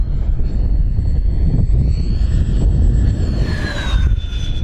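An FMS A-10 Thunderbolt II RC jet, 1500 mm span, roars past at full throttle, a loud continuous ducted-fan whine and rush that swells and shifts in pitch as it passes close by.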